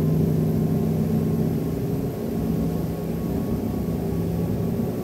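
Twin-engine Sealine S39 sportscruiser motorboat climbing toward planing speed, its engines delivering a steady, loud low rumble with droning tones that holds nearly even throughout, with no talk.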